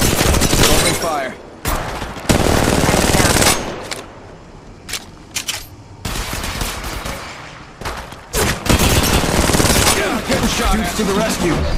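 Gunfire in the mobile battle royale game Apex Legends Mobile: loud rapid automatic bursts with short pauses between them, close and sharp, with fainter shots and game sounds in the quieter gaps.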